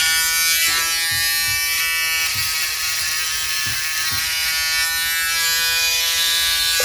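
An electric shaver runs through a beard, giving a loud, continuous, close-up buzz with slight rasping changes as it moves over the hair.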